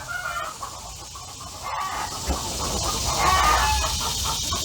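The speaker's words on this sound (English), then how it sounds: "I see another kind of chicken." Small chickens at a colonial plantation farm cluck in a steady, busy mix, moderately close, with a rustling outdoor background and no talk.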